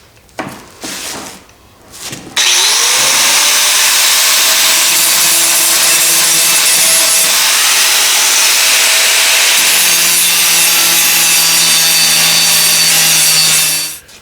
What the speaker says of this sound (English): we'll clean up any little nibs or spatter from